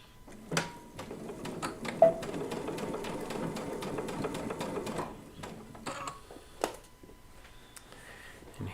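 A sewing machine stitches a piece of fabric onto a quilt top, running in steady bursts of rapid mechanical clatter for several seconds, then slowing and stopping with a few short taps near the end.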